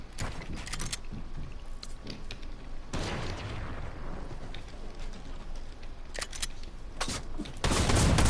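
Shotgun fire in a video game sounds as loud, close bursts of shots in clusters, with a booming blast midway and a dense volley at the end.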